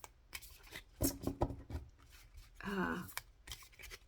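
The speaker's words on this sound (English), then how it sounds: "Let me shuffle them like this because these are so stiff" Stiff pocket-size oracle cards shuffled in a few quick, rough bursts of riffling and rubbing, close by, with short pauses between them.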